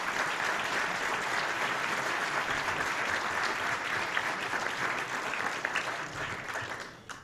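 Luncheon audience delivering a full round of applause, a continuous, even roar of many clapping hands that stays steady throughout before cutting off.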